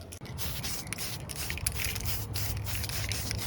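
Spray paint from an aerosol can hissing onto a Tamiya 58702 Subaru BRZ ZD8 1/10 lexan RC car body outdoors, in several close bursts with short gaps between them and no talking.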